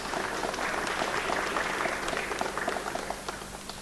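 An audience at a book launch claps in steady applause, a dense patter of many hands that stays even throughout and then eases slightly toward the end, heard from a moderate distance.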